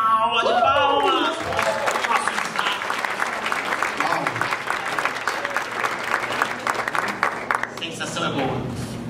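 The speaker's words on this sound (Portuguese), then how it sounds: "Agora, uma salva de palmas!" Audience at a hypnosis stage show breaks into sustained applause with mixed crowd voices, starting loud as a voice finishes speaking, then holding a dense steady clatter of clapping that tapers near the end.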